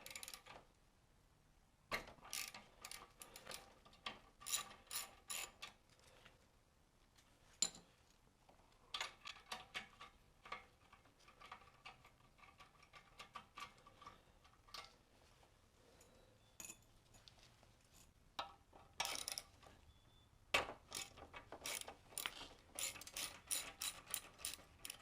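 Ratchet clicking in repeated bursts while a bolt is loosened on the exhaust of a 2013 Kawasaki ZX6R, close and fairly quiet, with short pauses between the runs of rapid pawl clicks.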